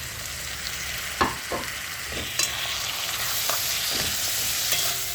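Ginger and garlic sizzle steadily in a hot pan, with a few sharp spatula scrapes and taps breaking through the constant frying hiss.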